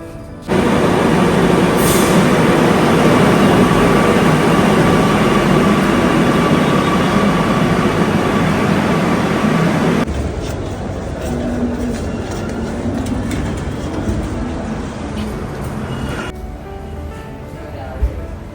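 Steady loud rumble of a moving metro train in Ernakulam, Kerala, then a quieter stretch with softer rattling, like slowing or a change of cabin noise.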